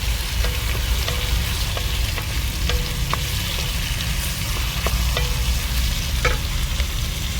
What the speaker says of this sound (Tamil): தக்காளி போட்டாச்சு. ஏன்னா ஒன்றா சேர்த்து வதங்க அப்படியே கரெக்டாக இருக்கும் டைம்.